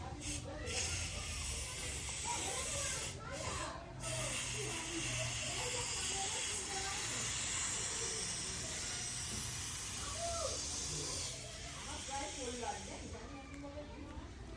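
A rubber balloon slowly deflating, its thin continuous hiss running throughout at close range, with a faint voice murmuring underneath.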